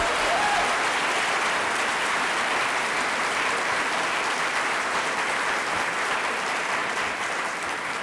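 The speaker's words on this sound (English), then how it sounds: "Gary, that applause is for you." Loud, sustained applause from a large conference audience fills the whole stretch, a dense, even roar of clapping without letup.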